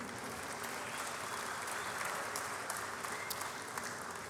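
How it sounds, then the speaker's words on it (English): Steady, dense round of applause from an audience at a Kentucky awards ceremony, sustained at even loudness without a break and with no speech over it. "give a round of applause for Lake Cumberland"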